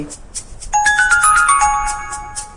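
A mobile phone's ringtone chimes loudly and close by in a bright melodic phrase of descending tones. It begins after a brief moment of near silence and rings on without talk over it.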